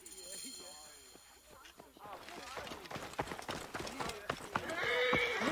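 In Assassin's Creed Origins, galloping horse hooves beat a fast, rhythmic clip-clop that builds louder toward the end, with a whinny and voices speaking over the running.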